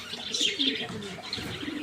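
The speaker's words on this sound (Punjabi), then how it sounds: "ਕਿੱਦਾਂ ਲੱਗੇ ਤੁਹਾਨੂੰ ਆਪਣੇ ਨਵੇਂ ਕਬੂਤਰ" Pigeons coo steadily at close range, their soft throaty calls mixed with a few higher chirps from other birds throughout.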